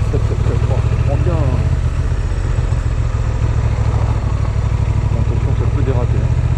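A Honda Transalp 750 motorcycle ridden over bumps, its engine a steady loud low throb with clattering over rough ground, while the rider talks over it throughout.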